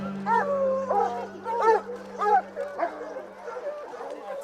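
Dogs at a dock diving competition bark and yip in a quick, irregular series of sharp, fairly close barks over a low steady hum.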